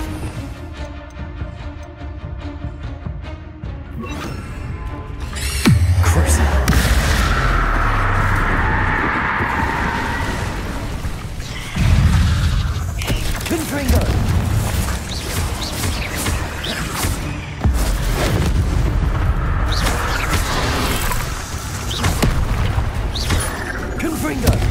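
Confringo blasting-spell explosions in Hogwarts Legacy, several heavy booming blasts spread across a long stretch of loud game combat with rumbling impacts and crashing debris.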